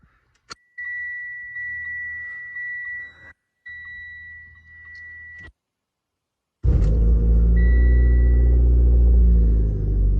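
A Mitsubishi Evo X fitted with a flex fuel kit, with chimes and a steady tone as the ignition comes on, then the engine turning over and settling into a loud, close, steady idle rumble.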